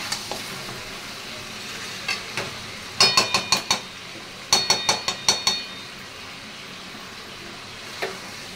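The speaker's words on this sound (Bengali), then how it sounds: "দেখো ধনের গুঁড়ো দিয়ে এবার নাড়াচাড়া করছি" Chicken stirred with coriander powder in a pan: several bursts of quick spoon scrapes and clinks against the metal, grouped in rapid runs of four or five strokes with quiet gaps between, over a faint sizzle.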